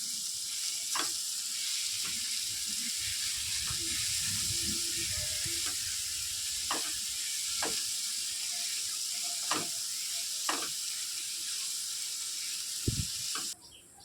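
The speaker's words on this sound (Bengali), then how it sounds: "ভালোভাবে এটা ভেজে নিচ্ছি।" Green mango pieces with a single bay leaf sizzle and fry steadily in hot oil, a continuous close crackle with occasional sharp pops and light stirring scrapes, no voices.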